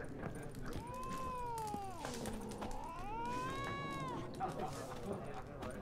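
A cat meows in a room during a Witcher 3 game session, two long drawn-out wavering meows, close and clear, over the game's background sound.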